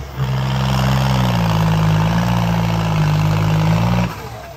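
A John Deere tractor engine runs close and loud with its turbo whistling over the steady drone for about four seconds, then cuts off abruptly.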